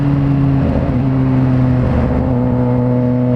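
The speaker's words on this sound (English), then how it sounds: "On how to rev match without fucking using your clutch." A car engine revs steadily and loudly close by, its note rising and falling slightly as the driver rev-matches without using the clutch, with no talk over it.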